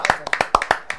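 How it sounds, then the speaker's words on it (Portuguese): A few people clap hands in an irregular, sparse patter during a radio interview, sharp close claps for about a second with no talk over them. "Vamos aplaudir"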